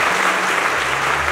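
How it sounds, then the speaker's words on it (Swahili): A church congregation bursts into dense, loud applause for Muigai wa Njoroge, a continuous wash of many hands clapping at once with no gaps. "Makofi kwa Muigai wa Njoroge."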